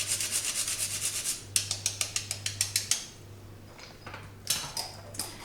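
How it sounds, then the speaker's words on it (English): Fresh whole nutmeg scraped against a kitchen grater, a close series of quick rasping strokes in steady rhythm with a few short pauses, heard alone over faint low hum. "I've got fresh nutmeg, so I'm going to grate it in."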